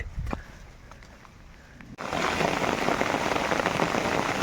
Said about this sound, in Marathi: मित्रांनो थोडा पाऊस लागतोय